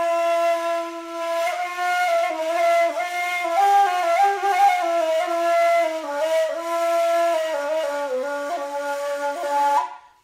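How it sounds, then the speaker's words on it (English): A breathy, airy open-embouchure kaval flute plays a slow, mournful melody for about ten seconds, with bending pitches and a soft, hollow tone. "So this open embouchure flute sound like this."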